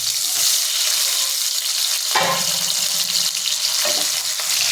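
Parboiled whole potatoes frying in oil with dried red chillies and whole garam masala, a loud continuous hiss with a sharp burst of sizzling midway and another later, no talk.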